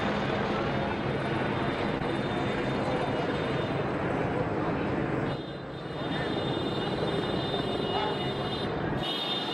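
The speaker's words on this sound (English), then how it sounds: "You can hear the helicopters." Helicopters drone continuously overhead at a rally in Los Angeles, a steady loud rotor and engine roar that dips briefly before returning.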